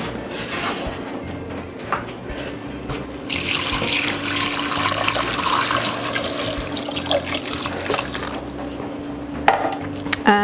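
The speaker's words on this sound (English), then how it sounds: "Now I'm just going to cover it with water, which is by the stove" Water pours into a pot over asparagus soup ingredients on a stove, a continuous close gushing and splashing that swells in the middle and then tapers off near the end.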